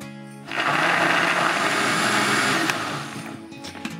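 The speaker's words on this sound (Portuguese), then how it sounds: "Então agora eu vou colocar no liquidificador a manga" A blender blending mango with broth whirs loudly for about two seconds, a steady high-pitched motor drone that starts abruptly and then winds down.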